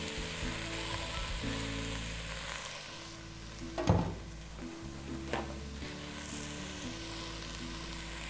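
Peas and carrots hit a frying pan already cooking onion, celery, garlic, salt and cinnamon, giving a steady close sizzle with a couple of sharp clattering stirs midway.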